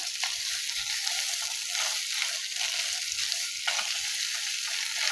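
Boiled beans are tipped into meat cooked with tomato paste, and the pan keeps up a loud, steady sizzling hiss for the whole stretch with no voices.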